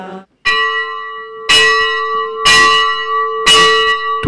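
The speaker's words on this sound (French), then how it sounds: "Toute chapelle se doit d'avoir sa cloche." A chapel bell rings in four clear, evenly spaced strikes about a second apart, each ringing on with a sustained metallic hum between blows, close and loud with no talk.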